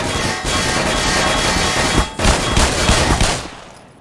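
Sustained small arms gunfire aimed at automated turrets in the video game Black Mesa, a dense, loud rattle of rapid shots with a short break midway before the firing resumes and tapers off.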